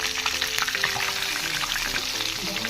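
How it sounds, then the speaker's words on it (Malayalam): Mackerel (ayala) coated in green peppercorn paste frying in a pan over a medium flame, a steady close crackling sizzle with faint music-like tones running underneath throughout. "ബാക്കിയുള്ള റൊക്കൊക്കെ തേച്ചെടുത്തിട്ട് മീഡിയം ഫ്ലെയിമിലേക്ക് നമുക്കിത് ഫ്രൈ ചെയ്തെടുക്കാം"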